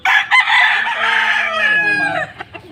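A fighting rooster crows once, close and loud, in a long drawn-out call, with faint clucking and yard noise around it.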